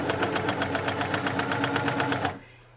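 A Brother PQ 1500 sewing machine stitches fabric with a fast, even mechanical chatter of rapid needle strokes for about two seconds, then stops abruptly into near quiet.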